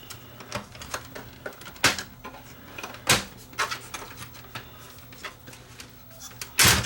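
Panasonic PV-S7670 S-VHS VCR mechanism being pulled out of the unit, giving a string of sharp plastic and metal clicks, snaps and knocks, close and fairly loud, with a harder clack near the end.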